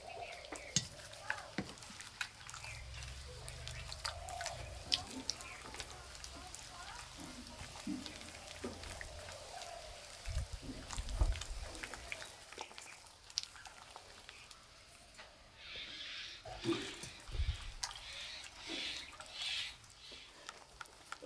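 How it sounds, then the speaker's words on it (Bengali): Rice flour batter is mixed by hand with coconut paste and water, giving soft, faint, wet squelching and stirring sounds that come and go at close range with scattered light clinks. "এবার অল্প করে জল দেবো আর মেখে নেব।"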